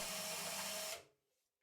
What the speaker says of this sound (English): I'm drilling holes, followed by countersinking them